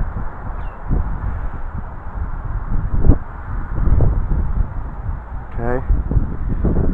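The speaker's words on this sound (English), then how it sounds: "Whoa, that wind is really picking up." Strong wind blowing outdoors near a beach, a constant low rumbling buffet across the microphone that swells and eases, with a person briefly speaking over it.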